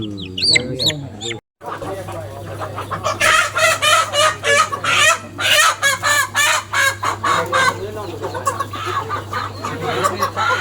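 Chickens cluck repeatedly and a rooster crows close by, loud and persistent, with people talking over the birds throughout.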